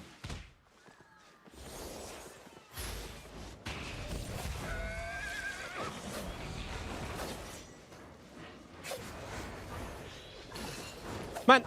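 A horse whinnies loudly in a video game, its shrill neigh rising above dense game action with thuds, clattering hooves and an impact near the end, while a voice talks intermittently.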